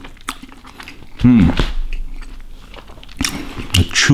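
A close bite into sticky rice topped with corn, green onion oil, shallots and dried pork shred gives a soft, wet crunch and chewing, with faint talk under it.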